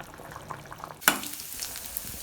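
A fish curry simmering and thickening in a pan makes a low bubbling hiss, broken by one sharp clatter of a utensil partway through before the steady simmer continues.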